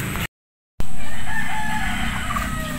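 A rooster crows loudly nearby in a countryside garden after a brief gap, with white hens clucking and other birds chirping in the background.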